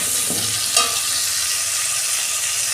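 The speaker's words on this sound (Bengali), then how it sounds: "আলুটা ততক্ষণ ভাজা হোক," Potatoes frying in a pan with a little salt and turmeric, giving a loud, continuous close-up sizzle with a brief stir or scrape early on, and no voices.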